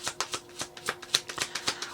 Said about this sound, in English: I swear, I'm not a smooth shuffler usually.